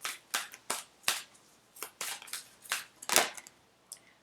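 A deck of tarot cards is shuffled by hand, producing about a dozen short crisp riffling bursts in an uneven rhythm, close and fairly quiet.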